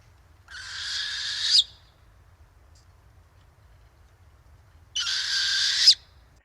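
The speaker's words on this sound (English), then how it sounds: "they make this screeching sound too" Two harsh, hissing screeches from an owl native to Alberta, each about a second long, separated by a few seconds of near silence.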